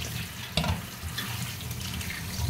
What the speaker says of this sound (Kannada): ತಣ್ಣಗಿರೋ ನೀರು ಬಿಡಬೇಕಾಗುತ್ತೆ